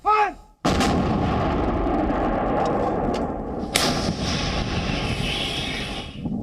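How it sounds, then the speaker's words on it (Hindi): A 130 mm Indian Army medium artillery gun fires in the Thar desert with a sudden deafening blast, followed by a long rolling rumble and roar that trails off slowly. "भारतीय सेना के तोपखाने की 130 मिलीमीटर की मीडियम गन को जंग के माहौल में परखा जा रहा है"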